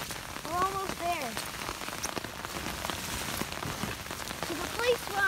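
Rain falls outdoors on rocky ground, a steady soft patter of drops on surfaces, fairly faint and continuous. A few high bird or frog-like chirps sound briefly in the background.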